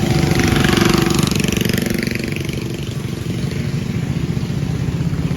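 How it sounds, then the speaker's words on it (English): A motorboat passes on the Tapi River in Surat Thani, Thailand, its engine a loud, steady, buzzing drone with rattling chop that swells early, then eases slightly while staying close throughout. "oh, we got another boat coming."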